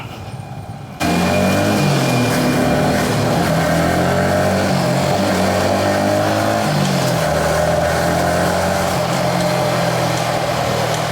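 Yamaha XSR 155 motorcycle engine on a test ride, a loud steady drone with rising and falling revs as gears shift, starting after a quieter first second.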